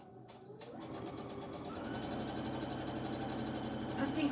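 A sewing machine stitches fabric for a watermelon placemat, starting up partway through and settling into a steady, close mechanical whir that grows a little louder toward the end.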